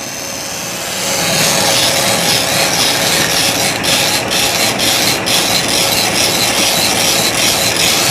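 A recipe mixture is whisked vigorously in a bowl, making a loud, continuous, rapid scraping rub that holds steady for several seconds after a quieter start.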